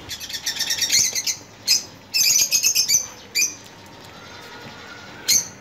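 Lovebirds squawk and chatter in loud, shrill bursts, with several clustered calls early on and then separate sharp outbursts separated by quieter gaps.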